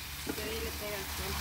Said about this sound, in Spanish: se le da sus vueltecitas y se va friendo poco a poco.